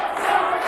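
A strongman competition crowd roars and cheers for a reserve competitor holding out a 56-pound weight, a dense, steady wall of voices filling the whole moment without a break.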